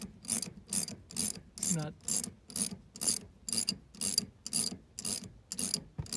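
A ratcheting wrench tightens the rear shock nut on a 2004–2010 Toyota Sienna minivan, a regular series of about a dozen crisp metallic clicking strokes, close up, with a brief spoken remark partway through.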